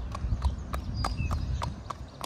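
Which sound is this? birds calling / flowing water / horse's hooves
horse's hooves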